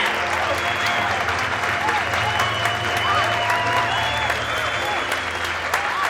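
Cabaret audience applauds a returning act, thick continuous clapping from a full room with some cheering mixed in, steady and loud throughout.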